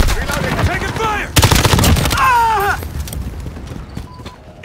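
Rapid bursts of automatic gunfire in a Call of Duty Modern Warfare multiplayer match, loud and close, with short rattling volleys broken by a sharp crack and game sound effects.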